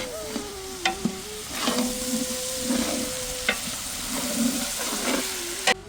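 Village-style mixed green vegetables, including cauliflower and papdi beans, frying in a pan with a steady close sizzle, broken by occasional sharp clinks of a spoon stirring against the pan.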